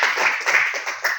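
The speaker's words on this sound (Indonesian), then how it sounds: "Tepuk tangan semuanya." A classroom of students clapping their hands together during a micro-teaching lesson, a short burst of quick, close group claps in a few uneven waves, loud and lively, with no one talking.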